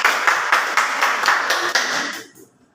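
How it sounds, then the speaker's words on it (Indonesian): A classroom group receives applause from their classmates: a few seconds of steady, rhythmic clapping that thins out and stops near the end. "Ya, berikan aplaus buat kelompok 1"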